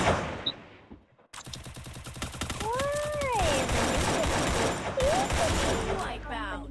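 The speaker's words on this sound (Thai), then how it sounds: "ตอนนี้เรายิงไปได้หกหกคนแล้วครับ" Rapid automatic gunfire from the video game Free Fire, dense bursts running almost continuously after a short pause, with players talking over the shooting.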